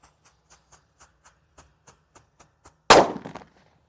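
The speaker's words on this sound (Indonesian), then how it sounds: "di sini ada disco happy flower yang warna merah" A red Disco Happy Flower firework whose lit fuse gives a string of soft, evenly spaced ticks, then a sudden sharp bang with a short crackling burst that fades out quickly.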